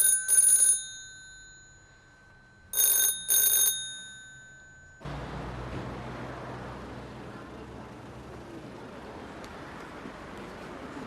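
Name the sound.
telephone ringing unanswered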